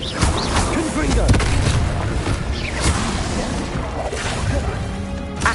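Combat spell explosions in Hogwarts Legacy: loud, dense booms and crashing blasts in quick succession, with a voice shouting spells among them.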